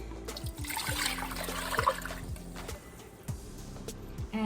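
Dandelion juice is poured back into a cooking pot, making a continuous trickling, splashing stream with small gurgles and a few sharp knocks and taps from the pot.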